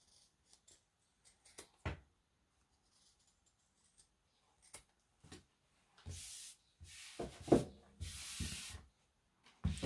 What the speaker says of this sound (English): Just trimming that bulk off.